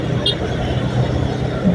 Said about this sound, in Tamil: முன்னாடி எவ்வளோ டிராஃபிக்காக இருக்கா.